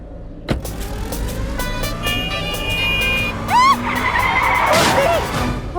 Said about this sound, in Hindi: ये तो गाड़ी ठुक गई है।